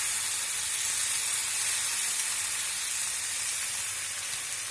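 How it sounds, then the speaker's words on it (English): Dark soy sauce sizzles steadily in a hot pan beside fish, a loud, even, hissing fry that runs unbroken throughout with no voices. "Now I am going to add the dark soya sauce, 2 tablespoons of dark soya sauce."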